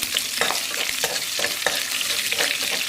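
Green chillies fry in hot oil in a pan, a loud close crackling sizzle with repeated stirring scrapes and no talk.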